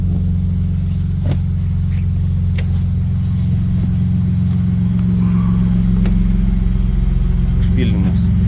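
A Ford F150 with the 3.5 EcoBoost engine idles smoothly after starting and changes over to LPG, giving a steady, loud, close low rumble that holds even throughout with only faint background ticks.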